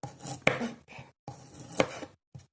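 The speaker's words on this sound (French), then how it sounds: "Donc de l'ail pour rajouter dans notre préparation. Donc on va découper" A knife on a cutting board slices garlic into thin slivers for a gluten-free rice vermicelli and spicy shrimp dish. Close, crisp chopping strokes come in short bursts separated by brief pauses.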